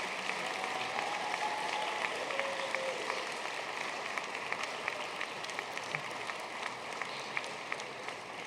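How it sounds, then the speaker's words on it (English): Guests at an annual alumni gala applaud in a long, even round of clapping heard at moderate distance, with occasional sharper individual claps and a faint background tone running beneath. "Another round of applause."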